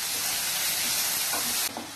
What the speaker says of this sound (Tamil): தக்காளியையும் நல்லா நம்ம வதக்கிக்கலாம்